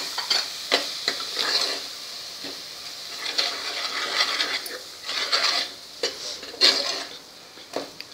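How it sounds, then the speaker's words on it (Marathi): A spatula stirs jujube paste in a pan, with scraping strokes and soft sizzling in an irregular rhythm, close and moderately loud, without speech. "मस्त परतून झाले हे"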